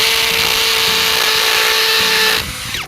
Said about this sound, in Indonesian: Kita coba ngebor di batako dulu ya.